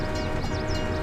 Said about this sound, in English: That's just a car horn